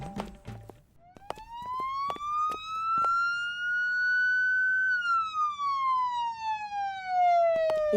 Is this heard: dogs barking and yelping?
no